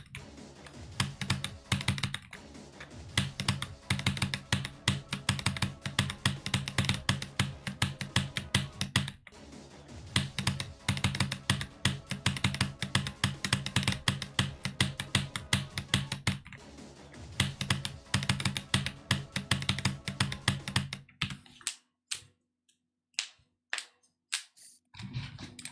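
Computer keyboard keys clack rapidly and continuously while someone plays Geometry Dash, a dense stream of close clicks that thins to sparse, isolated key presses near the end.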